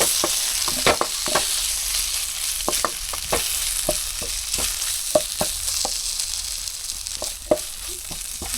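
Chilli powder and curry masala fry in oil for an egg gravy, a soft continuous sizzle under a string of crisp spoon taps and scrapes against the pan, close by, with no talking.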